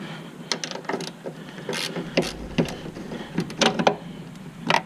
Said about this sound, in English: maybe a small driver with a 1/4 inch socket driver ratchet